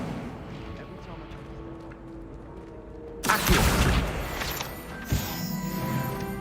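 Incendio fire spell cast in Hogwarts Legacy: after a quiet stretch of game ambience, a sudden loud whooshing fiery burst erupts and roars, then decays, followed by a second, smaller impact moments later.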